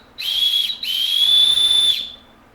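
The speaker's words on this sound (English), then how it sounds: "This is your whistle." A survival kit whistle blown twice, a short shrill blast then a longer sustained one, loud and close with no talking.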